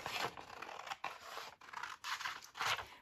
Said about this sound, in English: I think I'm going to give up and cut with the scissors